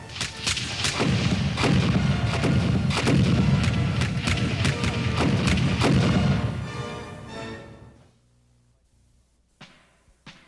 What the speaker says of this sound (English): the lead ships of both squadrons were firing broadsides at almost musket range